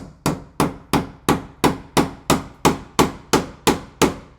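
A hammer taps an electrical outlet box into wall studs: twelve evenly spaced, sharp, ringing strikes, each fading quickly before the next, loud and close with no talking.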